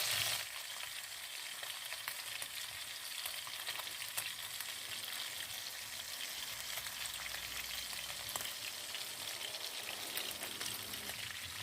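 Pork fat and meat fry in a cauldron over an open wood fire, a steady dense sizzle with crackling pops that runs continuously, close and fairly loud, with no talking.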